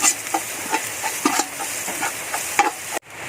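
Garlic frying to golden brown in a pan for arroz caldo, steady close sizzle with repeated scraping stirs, cut off abruptly near the end.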